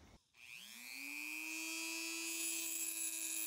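A small rotary power tool whines up to speed and holds a steady high-pitched tone as it cuts down a post on a die-cast Hot Wheels Dodge Charger model. The sound is close and alone.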